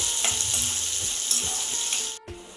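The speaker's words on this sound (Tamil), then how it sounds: "போட்டு நல்லா இந்த வெங்காயமும் பச்சை மிளகாய் அதெல்லாம் வந்து பொன்னிறமாக ஆகிறதுக்கு வதக்கிக்கலாம்" Onions and green chillies sauté in a pan, giving a steady close sizzle with occasional light scraping taps of a spatula throughout.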